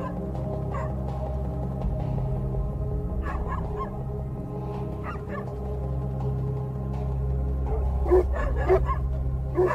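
Dogs barking and yipping during a snow leopard encounter, a few sharp bursts scattered over a steady low background rumble, growing more frequent toward the end, moderately distant.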